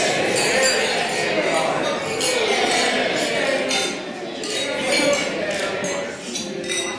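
Glasses clink repeatedly during a wedding toast to the bride and groom, with bright chimes scattered over a dense, noisy crowd that keeps talking throughout.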